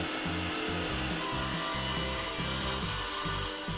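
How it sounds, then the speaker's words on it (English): A table saw rips a 3/4 inch thick MDF board into strips, the loud continuous whine of the blade carrying a steady cutting roar with rhythmic pulses as the sheet feeds through. "run the last bit of 3/4 inch thick MDF through the saw and rip off a bunch more strips"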